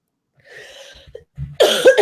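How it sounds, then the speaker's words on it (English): A few soft, throaty coughs, then a burst of harsher, louder coughing close to the microphone. "Now I can safely have a coughing fit"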